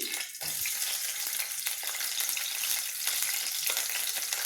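Green chillies fry in hot oil for an ivy gourd chutney, giving a steady, close, bright sizzle that runs the whole time after a brief dip at the start, with no voices.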